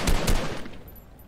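Gunfire in the video game Fortnite, two quick loud shots at the start followed by a fading echoing tail, with no talk over them.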